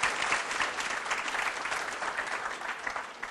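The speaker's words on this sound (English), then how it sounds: "how about a big round of applause again" Audience applause at a 2011 evening event, steady dense clapping from a crowd filling the room for a few seconds without a break.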